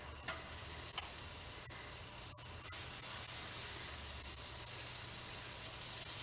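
Butter melting in a pan that is still heating up gives a steady sizzle and hiss that grows louder partway through, with a few light utensil clicks and no talking.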